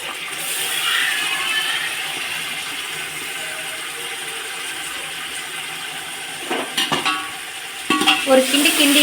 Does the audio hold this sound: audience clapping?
no